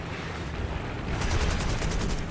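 Cannon fire in the video game Ao no Eiyuu (Hero of the Blue Sky) rumbles as a dense, continuous rapid rattle of shots layered over a low droning roar.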